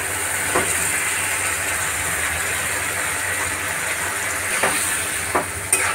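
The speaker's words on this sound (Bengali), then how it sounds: "ভালো করে কষিয়ে নেব।" Potatoes for Bengali aloo dum sizzle and fry in spiced masala with turmeric, coriander powder and poppy seeds, a loud steady hiss broken by a few sharp scrapes of stirring.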